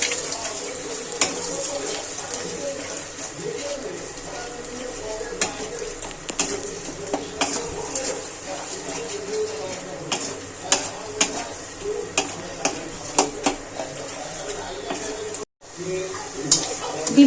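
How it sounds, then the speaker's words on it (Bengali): Egg scrambles and fries in oil with a little salt, a steady sizzle broken by repeated stirring scrapes and taps throughout. "অল্প একটু নুন দিয়ে ডিমটাকে ভুজিয়া করে নেব।"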